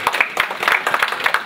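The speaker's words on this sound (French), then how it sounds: "Applaudissez-vous." A room full of people gives themselves a hearty round of applause, steady overlapping handclaps with a few louder smacks popping through, near and lively throughout.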